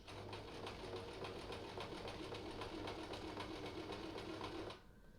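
A Singer sewing machine runs steadily while stitching a removable Osaka collar, a close, fast, even mechanical whirring for about five seconds before it stops.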